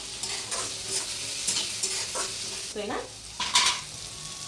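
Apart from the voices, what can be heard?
tomatoes added to sizzling onions in a frying pan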